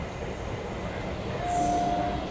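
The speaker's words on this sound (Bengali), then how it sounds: "আর অন্যদিকে এই যে লোকাল ট্রেন" A Kolkata Circular Railway local train rumbles past beside the Ganges riverside park, a steady rolling roar with a thin wheel squeal rising briefly midway, fairly close and continuous.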